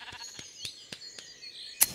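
Minecraft cartoon sheep bleating in a short series of soft, rhythmic calls, ending with one brighter, louder bleat, heard close and alone.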